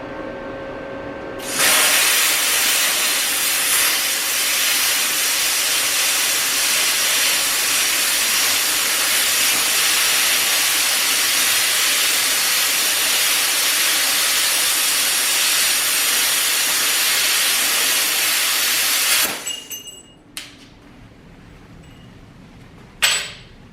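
A Bestarc BTC500DP pilot-arc plasma cutter slices through metal about an eighth of an inch thick, giving a loud, steady, close hissing roar for nearly twenty seconds that cuts off abruptly, followed by a few faint clinks.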